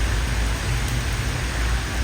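Heavy rain pours steadily onto a street, a dense, continuous wash of noise with no talk over it.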